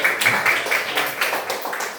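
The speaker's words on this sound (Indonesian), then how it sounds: "tepuk tangan untuk kita semua" A classroom of students claps together during a lesson, giving a short burst of brisk, uneven applause with rhythmic pulses that fades after about two seconds.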